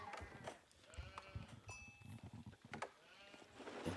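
Sheep bleat repeatedly in an Ottoman mirror match of a real-time strategy game, the calls faint and mixed with busy game effects and clicks.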